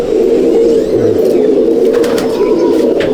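An Andhra pigeon held in someone's hand gives a steady, throaty cooing that runs continuously and close up, with faint handling rustles and no talk.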